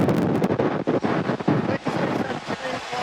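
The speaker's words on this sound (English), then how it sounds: "You could just hear how windy it was." Strong wind gusts at a college football stadium roar straight into the microphone, with buffeting bursts and brief dips that make a rough, loud, continuous rush.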